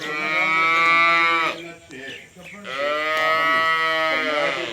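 A cow moos loudly twice nearby, each long drawn-out low call separated by a short pause filled with faint shuffling.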